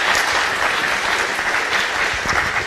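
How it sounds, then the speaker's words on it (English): Steady, dense audience applause at a National Defense University event fills the space, loud and close with no break and no voices over it. "give another round of applause for Dr. Andrus and Dr. Baker."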